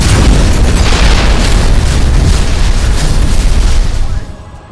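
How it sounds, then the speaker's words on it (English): A huge explosion as a blazing metal crate hits the ground, a dense, loud roaring rumble sustained for about four seconds before it cuts away abruptly. "a huge explosion that sent debris flying, a dust cloud spreading in its wake"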